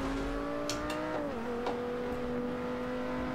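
A car in Forza Motorsport 7 accelerates with a rising engine whine that drops sharply at each gear shift and then climbs again, steady and close, with light clicks on top.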